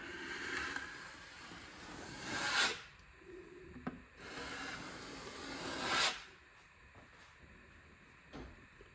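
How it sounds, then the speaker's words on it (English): A larger drywall knife scrapes patch compound off a wall in broad, raspy strokes, two long sweeps each ending in a sharp pull, followed by quieter scraping and small taps, close and alone. "I'm just going to come back with a larger knife and take that off."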